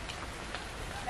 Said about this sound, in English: and the rain is super heavy.